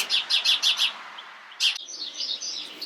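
Birds chirp and call outdoors in a quick run of four bright bursts, then a single call, followed by a steadier, softer twittering, fairly close and with no voices.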